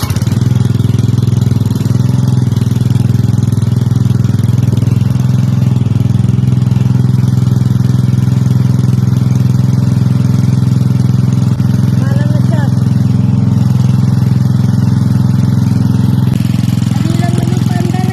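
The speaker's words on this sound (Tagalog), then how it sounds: "Ngayon naman, buksan na natin yung makina." A pool vacuum machine's motor runs steadily and loud, cleaning a pool with green water, a constant low engine-like drone throughout with intermittent talk over it.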